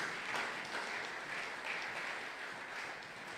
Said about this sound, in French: Est-ce qu'on peut acclamer très fort pour la gloire du Seigneur?